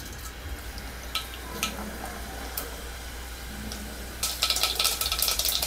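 Mustard seeds splutter in hot oil in a pressure cooker: a low frying hiss with scattered sharp pops that grow into a dense, loud crackling burst near the end.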